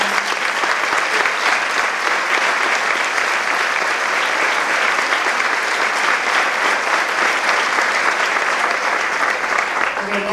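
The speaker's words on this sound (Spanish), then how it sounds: "vamos a dar un aplauso al equipo de alabanza" Loud, sustained applause from a Spanish-speaking church gathering at a plenary session, many hands clapping in a dense, unbroken roar that holds at an even level for about ten seconds.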